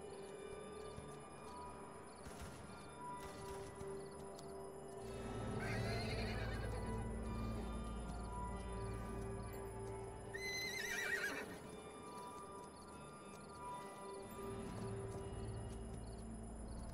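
Horses in a Wild West video game whinny loudly several times over clip-clopping hooves, with the neighs rising above a steady background hum and a faint insect-like chirping.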